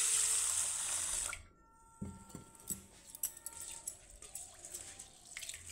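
Moong dal being rinsed in water, with a loud burst of running or splashing water at first, then quieter sloshing, scraping and clinks of grains being rubbed by hand in a bowl.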